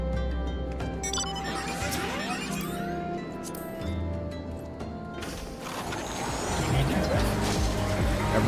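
Mechanical engine and gear-like ratcheting of a truck-style mount in Final Fantasy XIV, a steady, loud, continuous whirring and clanking with rising tonal sweeps, swelling louder toward the end.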